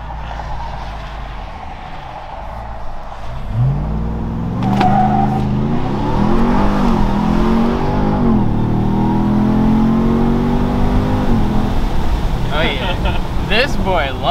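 A 2021 Ram TRX pickup truck launches hard, its engine roaring up through rising revs for about ten seconds, loud and close, with people talking over it.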